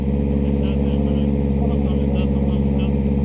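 A motorcycle engine idles steadily at a high, even pitch, close and loud, with a constant droning hum and a voice talking over it.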